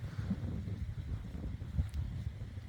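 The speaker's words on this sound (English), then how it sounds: "It's super windy out here." Strong wind outdoors ahead of an incoming storm, gusting into the microphone as an uneven low buffeting rumble, with no voices.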